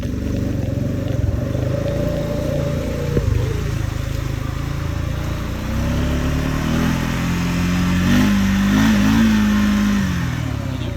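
A Honda Rubicon 500 ATV engine runs in drive with a transmission that refuses to shift, holding a steady mid-pitched drone that rises and falls with a few throttle swells near the end, close and continuous with no talk.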